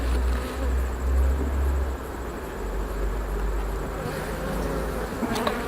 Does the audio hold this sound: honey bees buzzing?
yes